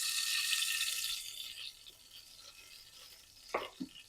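Ghee crackles and spatters in a hot pan as a bright, hissing sizzle that is strongest at first and then fades, followed by a couple of short knocks near the end.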